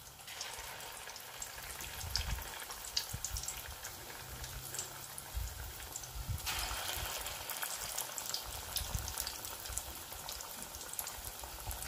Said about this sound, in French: Je vais le laisser frire